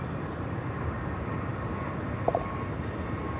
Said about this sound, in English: coming out of the sky in just a minute, going to be American Flight 115 from Honolulu